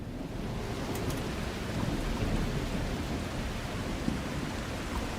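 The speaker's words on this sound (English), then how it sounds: "Oh, now it's raining out here." Steady, dense rainfall pours down in the video game The Last Caretaker, a continuous hiss with a low rumbling undertone, even in loudness and uninterrupted by voices.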